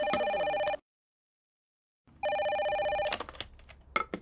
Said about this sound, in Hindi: अरे फोन उठाओ ना।